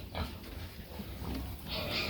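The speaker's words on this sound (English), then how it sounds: "these are some fat sows" Fat sows on a pig farm grunt and snort in short, close bursts over low farmyard background noise.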